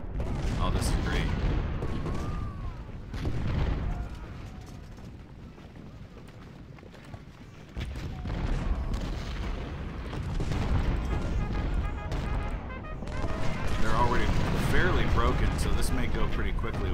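Artillery barrages in the Civil War strategy game Ultimate General: Civil War, with repeated booms and rumbling volleys of fire rising and falling over a steady battlefield din, heaviest toward the end.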